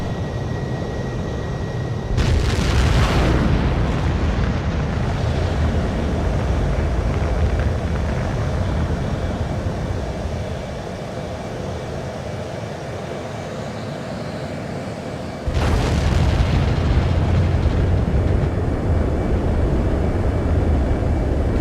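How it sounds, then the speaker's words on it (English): A jet fighter in the video game Ace Combat 7 spools up for launch with a deep, steady engine roar, and two sharp whooshing surges mark the thrust increasing as it takes off. "H2, begin takeoff sequence. You're cleared for launch."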